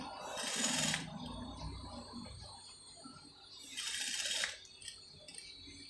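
A sewing machine stitches a corset crop top in two short, close bursts of fast whirring several seconds apart, with a low mechanical hum and faint handling noise between them.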